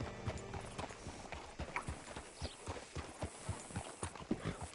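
A horse's hooves clip-clop at a steady walking rhythm in the video game Red Dead Redemption II, a run of evenly spaced hoof falls that stays fairly quiet throughout, with no voices.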